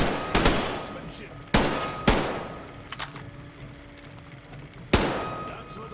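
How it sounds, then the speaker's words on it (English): Gunfire in Metro Exodus, a handful of loud, sharp shots spaced irregularly, each followed by a decaying echo over quiet background ambience. "That's what I call real shooting."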